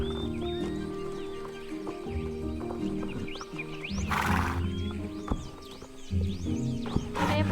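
A horse in the Star Stable Online game neighs loudly twice as it goes wild, with clip-clop hoofbeats and game music continuing underneath throughout.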